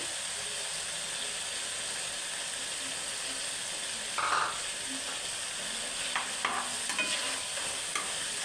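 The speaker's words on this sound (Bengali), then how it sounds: "চিংড়িগুলো দিয়ে 2-3 মিনিট ভাজবো।" Prawns fry in a pan of cooked-down spice paste, giving a steady, soft sizzle and hiss with occasional stirring scrapes; no voices.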